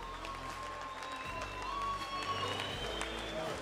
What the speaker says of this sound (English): let's give these two warriors a big round of applause.